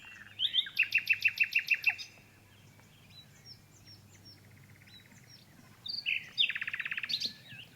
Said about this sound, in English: the duet with the nightingale